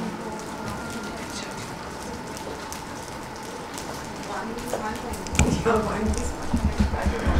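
A group of people tap fingers on their palms to imitate rain, producing a soft, continuous patter that thickens toward the end, with a voice speaking over it.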